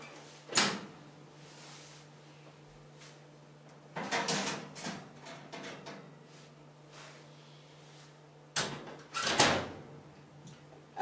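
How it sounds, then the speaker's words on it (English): A home oven door opens and closes while ice hockey skates are baked for heat molding, three separate clattering bangs spaced several seconds apart over a faint, steady hum. "make sure you close the oven door so no heat escapes from the oven"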